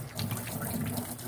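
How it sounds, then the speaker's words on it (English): Tap water runs steadily into a sink while trumpet parts are rinsed of soapy water and grime, a continuous close splashing hiss with no talk. "You just want to rinse all of that soapy water and dirt and gunk and anything that we can get out of there, rinse that out of there."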